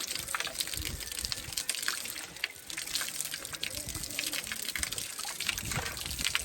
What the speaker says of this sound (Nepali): आन्टीले पानी हालिदिनु हुन्छ मैले खाँदैछु पानी